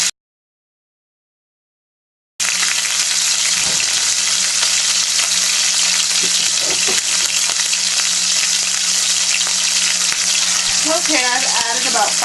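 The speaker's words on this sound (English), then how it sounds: "I've added about 5 tablespoons of sofrito and tomato sauce to stir that down some" Meatballs sizzle loudly in a pan as sofrito and tomato sauce are stirred in, a steady dense frying hiss with occasional spoon scrapes, starting after a brief silence and continuing close and unbroken.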